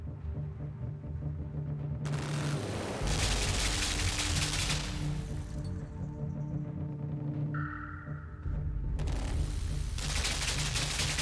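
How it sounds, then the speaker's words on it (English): Dense, sustained bursts of machine gun fire in the side-scrolling video game Limbo, loud and continuous, stopping and restarting a few times, with low droning game sounds underneath and no talking. "I really did not expect this game to have machine guns."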